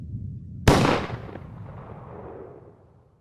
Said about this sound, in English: 3 shots were fired at President Kennedy's motorcade in downtown Dallas